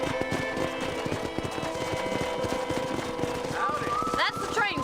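Steady, rhythmic hoofbeats of a horse galloping in Red Dead Redemption, a western video game, run throughout at moderate loudness beneath a layered game soundtrack, with a brief chirpy sound near the end.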